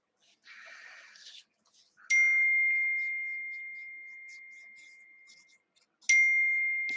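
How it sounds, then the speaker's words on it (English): A phone notification chimes twice, each a clear ringing ding that hangs and slowly fades, in an otherwise quiet room. "Uh-oh, my phone is dinging."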